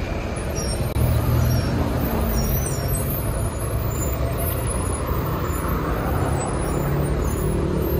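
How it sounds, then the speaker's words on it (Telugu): Continuous broadband roar of a bus or heavy vehicle nearby, steady and loud for the whole stretch with a hissing, air-brake-like quality, no talk. "అదిగో అక్కడ ఆ బస్సు, అక్కడికి వెళ్ళాలి"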